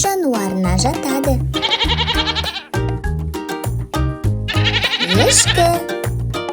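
Three strong, vibrating bleats from a domestic goat ring out up close, one at the start, one soon after and one near the end, each quavering, with a looping rhythmic low beat running underneath.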